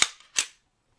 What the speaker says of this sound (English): So let's say I do my first shot, the explosion happens,